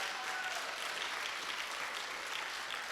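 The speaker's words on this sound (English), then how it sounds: "One more big round of applause for all of the incredible businesses that are here tonight" A business awards audience at a chamber of commerce anniversary gala claps steadily throughout, a dense, even round of applause heard from within the room with no voices standing out.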